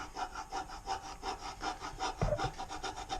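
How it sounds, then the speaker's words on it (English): Steady, rhythmic back-and-forth scraping as factory paint is worked off a Honda valve cover, about a dozen close, gritty strokes in an even pattern with no talking. "as you can see here, I'm scraping."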